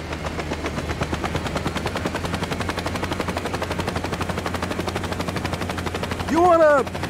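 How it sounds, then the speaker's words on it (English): A steady, thrumming helicopter rotor in the Saints Row video game pulses continuously at close range, with a brief voiced exclamation near the end. "We're gonna borrow Hawk's helicopter for this one."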